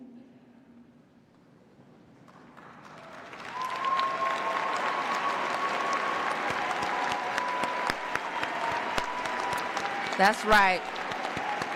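An audience at a university School of Education commencement ceremony bursts into sustained, dense applause that builds from quiet and holds steady, with cheers and a voice speaking over it.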